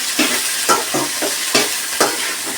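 Chopped tomatoes and chillies fry on high flame while a spoon stirs them, producing a close, lively sizzle broken by four or five sharp scraping strokes in an uneven rhythm.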